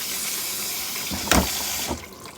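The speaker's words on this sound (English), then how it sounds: "I'm just gonna use a little bit of water here." A kitchen tap runs steadily into a sink while something is rinsed during cooking, a constant close hiss of water with a couple of brief splashes near the end, no talking.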